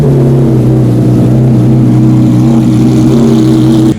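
A 1997 McLaren F1 GTR race car engine holds a loud, steady high rev at close range, its deep tone running unbroken for the whole span and then cutting off sharply at the end.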